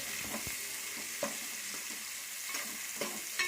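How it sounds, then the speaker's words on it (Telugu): Curry leaves and spices fry in hot oil, giving a steady broadband sizzle with occasional stirring scrapes and pops, close and fairly quiet, no voices. "కరివేపాకు కొంచెం క్రిస్పీగా అయ్యేంత వరకు ఫ్రై చేసుకున్న తర్వాత"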